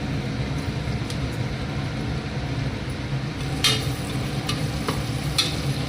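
Onions sizzle and fry steadily in a pan for mutton curry, a continuous close hiss with a few sharp stirring scrapes and clinks near the end.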